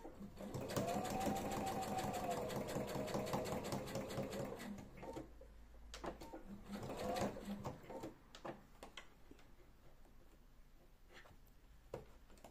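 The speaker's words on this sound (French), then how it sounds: "je remonte le zip et je couds jusqu'au bout" A sewing machine stitches a zip into a trouser waistband with a belt, running in a steady whirring burst for about five seconds, pausing, then giving a shorter run before quieter handling noises.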